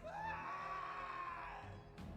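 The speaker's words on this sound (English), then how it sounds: "It's not a good scream." A single drawn-out scream from a character in the fantasy role-playing game Pathfinder: Kingmaker, rising and then holding a strained wavering pitch for about two seconds, loud and alone, cut off by a short burst of noise at the end.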